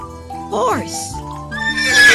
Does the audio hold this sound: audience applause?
no